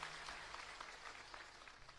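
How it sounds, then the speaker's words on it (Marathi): Audience applause welcoming a new MLA at a Hari kirtan gathering, a faint, steady patter of many clapping hands heard from a distance. "सगळ्यांनी टाळ्या वाजवून स्वागत करा."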